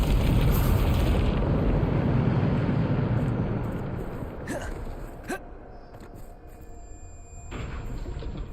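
A Bombarda spell explosion in Hogwarts Legacy bursts out as a loud, broad blast. It fades slowly into a rumbling tail, and a few sharp cracks and thuds follow.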